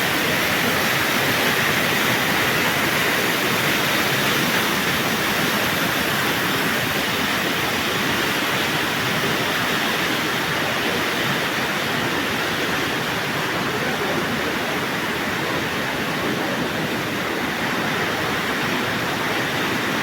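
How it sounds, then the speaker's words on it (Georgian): Steady, dense roar of the Chernigovka waterfall in Abkhazia pouring over rock above a river, a constant loud rushing wash with no pauses and no voices. "აი აქ ჩანჩქერი"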